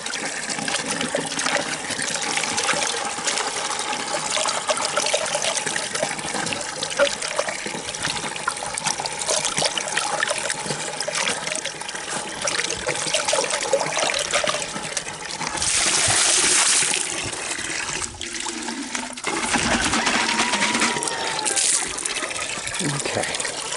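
Water trickles and gushes steadily into a container while someone cleans off algae buildup nearby, a close running flow with a louder surge partway through, under intermittent talk.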